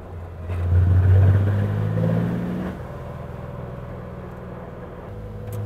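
A Porsche 911 ST engine revs up under acceleration, a loud low growl that swells and then eases into a steadier, quieter drone heard from inside the car.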